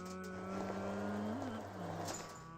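A video game door that sounds like a car's turbo engine: a close, droning engine tone whose pitch rises and falls, swelling briefly before settling, with no speech.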